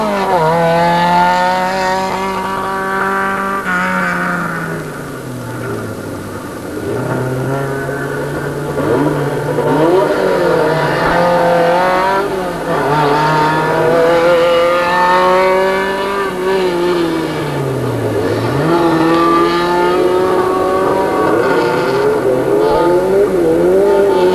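A race car at the Wyrazów circuit accelerates along a straight toward 80–90 km/h. The engine revs up hard and drops with each gear change, loud and close throughout.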